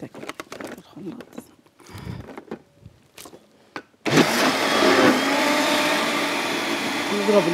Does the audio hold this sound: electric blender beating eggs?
yes